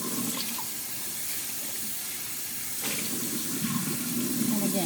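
Tap water pours into a sink while a face mask is being handwashed, making a steady close splashing rush that grows slightly louder toward the end, with a voice faintly present.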